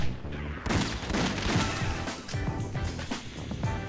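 Rapid, dense gunfire from the House of the Dead: Overkill video game rattles continuously in loud overlapping bursts, with crashing impacts mixed in.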